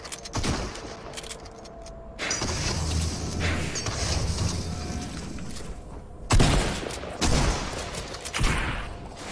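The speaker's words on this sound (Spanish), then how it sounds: "¿siguió disparándome?" Rapid bursts of video game gunfire crackle in several loud volleys separated by quieter stretches, with sharp impacts and a busy mechanical background.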